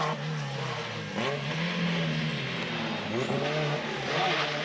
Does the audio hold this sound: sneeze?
no